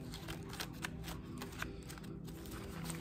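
Playing cards are shuffled with quick riffling clicks and soft flutters, faint and close, over a constant low background hum.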